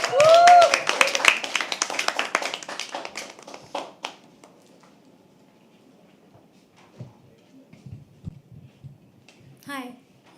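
Audience clapping at a live poetry open mic: a burst of hand claps that is loud at first and dies away within about four seconds, followed by quiet room noise, a few faint voices and scattered taps.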